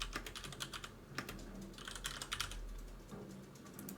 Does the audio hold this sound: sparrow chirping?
no